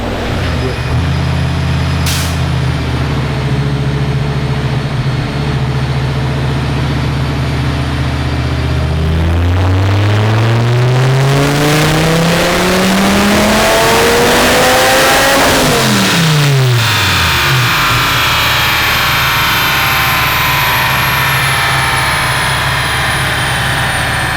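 A car engine on a dyno revs hard with the throttle opened, the pitch climbing in a long sweep, dropping sharply, then settling back to a loud steady drone.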